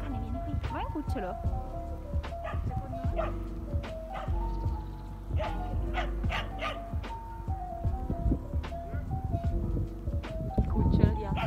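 Several dogs barking in an open park, with short yips and barks recurring throughout amid background chatter and people talking nearby.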